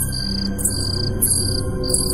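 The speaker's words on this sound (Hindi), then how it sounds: "फिर से वही पायलों की आवाज।" Anklet bells (payal) jingle in a few bright shimmering bursts over a steady low rumbling drone, at a moderate distance, inside an old mansion at night.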